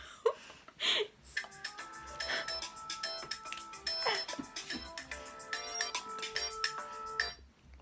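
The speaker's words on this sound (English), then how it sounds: "Where can I get that ringtone?" A bright electronic phone ringtone melody plays in quick repeating notes, fairly loud, with brief laughter and voices near the start.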